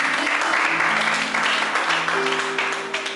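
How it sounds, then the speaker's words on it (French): A church congregation applauding and cheering for God, dense steady clapping with voices mixed in, loud and close, tapering slightly at the end. "Est-ce qu'on peut acclamer Dieu?"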